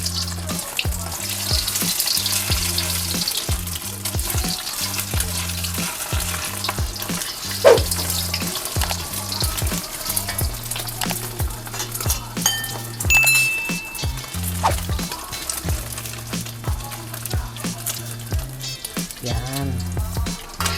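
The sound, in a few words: egg omelette frying in a pan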